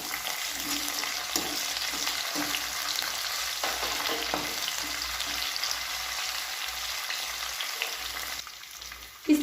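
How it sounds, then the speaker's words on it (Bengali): Raisins and cashews fry with browned onions in hot oil, a steady close sizzle and crackle with occasional scrapes of a spoon stirring the pan, ending in a brief clatter. "এবার আমি এর মধ্যে দেব কিশমিশ আর কাজুটা, কারণ এগুলো একটু ভাজা ভাজা হবে এর সাথে"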